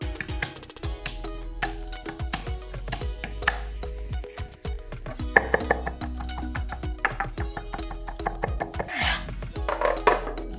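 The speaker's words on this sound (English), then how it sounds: "Go ahead and rough chop one onion, about 6 cloves of garlic," Rapid knife chops on a cutting board as an onion and garlic cloves are rough-chopped, a close, irregular run of sharp taps and thuds with no talking.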